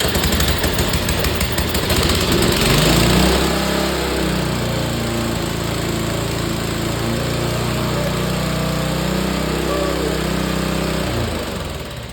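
A primed snowblower engine with the choke on catches after a moment, then settles into a loud, steady running drone close by before cutting off at the end.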